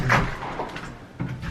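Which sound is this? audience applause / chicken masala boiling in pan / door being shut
door being shut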